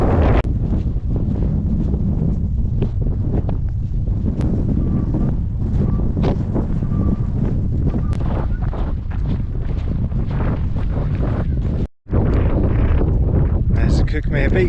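Strong, steady wind buffets the microphone on an exposed hilltop along the South Downs Way, a loud continuous low roar and rumble with a brief dropout near the end.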